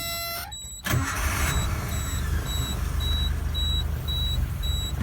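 A 1988 Suzuki Samurai engine runs cold at a steady idle after a brief startup noise, with a continuous low rumble and a faint repeating beep above it.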